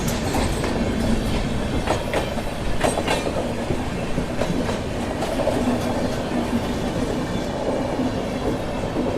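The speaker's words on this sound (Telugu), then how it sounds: "సో ఇక్కడ చూసుకుంటే ఏదో ట్రైన్ వస్తుంది" Passenger train rolling by on the Indian railway line, with a loud, steady rumble and rhythmic clickety-clack of wheels over rail joints close by throughout, with no talk.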